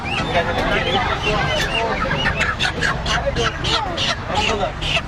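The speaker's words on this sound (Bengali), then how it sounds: "মুরগি মুরগি দিছি আপনাকে।" Chickens clucking and squawking amid a lively crowd, with sharp repeated bird calls over constant overlapping talk from several people nearby.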